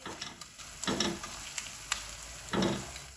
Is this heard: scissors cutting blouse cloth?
no